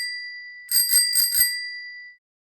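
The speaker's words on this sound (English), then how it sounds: "This is the sound a bicycle makes." A bicycle bell rings four quick bright dings in succession, clear and close, the metallic tone lingering briefly before silence.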